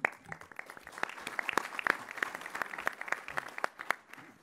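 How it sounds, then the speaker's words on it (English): Audience applause at a state cabinet meeting in Rochester, a sustained patter of many hands clapping, fairly close, with brief voices mixed in. "Sorry, I cut off your applause there."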